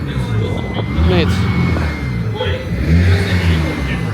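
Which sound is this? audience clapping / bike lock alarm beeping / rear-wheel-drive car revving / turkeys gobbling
rear-wheel-drive car revving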